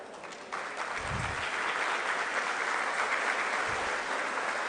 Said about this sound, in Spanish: Pedimos un cariñoso aplauso a quienes nos acompañan el día de hoy